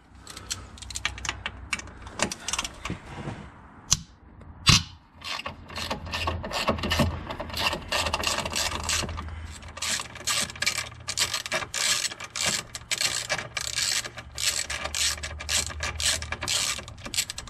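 A ratchet spins steadily while removing the lower engine mounting bolts on an E8x BMW 1 Series, giving close, rapid clicking in long runs, with a sharp metallic knock near the start.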